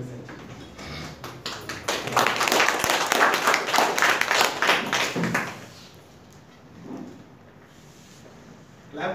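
An audience breaks into applause, a dense burst of many hands clapping that swells and holds for a few seconds, then fades into quiet room noise.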